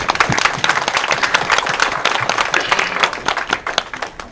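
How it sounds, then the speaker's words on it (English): Steady, dense applause from a wedding reception audience honoring the parents, lively overlapping clapping filling the room at close range. "I think that deserves a round of applause."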